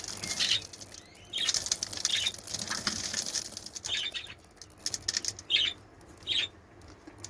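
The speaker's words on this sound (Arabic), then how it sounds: "ودي الكلفة بتاعت الحمام اهي،" Pigeons flapping their wings in a loft, repeated short fluttering bursts at irregular intervals, fairly faint, with rustling and soft bird sounds between.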